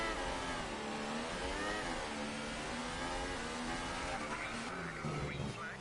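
A car engine revs high after an overly aggressive downshift, a loud, steady, buzzing drone whose pitch climbs and wavers throughout, with some talk mixed in.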